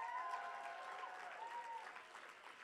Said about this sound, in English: Everybody applaud, we're here.